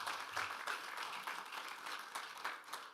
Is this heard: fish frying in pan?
no